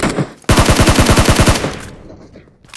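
Rapid automatic gunfire in a PUBG match on the Erangel map, a burst of about a dozen loud shots in quick, even rhythm, then a fading tail with no voices.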